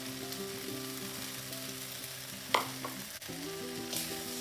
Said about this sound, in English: Stir it for a while.